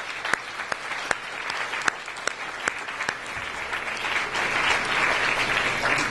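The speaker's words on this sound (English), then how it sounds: "give an extra round of applause for these 5 people on the screen" Audience applause at a service-to-students award ceremony, a steady round of clapping with a few sharp individual claps standing out, swelling slightly toward the end.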